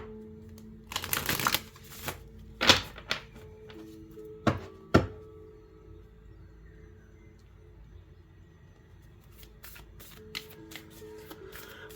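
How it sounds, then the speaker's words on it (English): Tarot cards are shuffled by hand in a few quick riffling bursts and sharp taps of the deck, spaced out over the first several seconds before trailing into a quiet room with faint scattered handling sounds. "And then one more shuffle."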